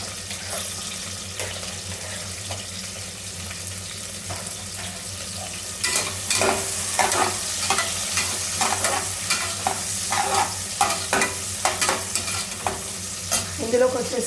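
Onions fry in a pan with a continuous sizzle that grows louder midway, while a spoon scrapes and stirs in frequent short strokes close by.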